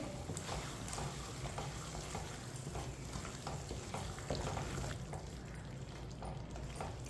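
Aloo palak curry with chopped coriander and garam masala being stirred in a pan, a steady soft sizzle with scraping spoon strokes throughout, moderately close and without voices.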